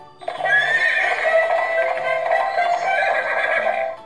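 A Dora the Explorer talking backpack toy plays a loud, close electronic horse whinny lasting several seconds, with faint clip-clop hoofbeats underneath.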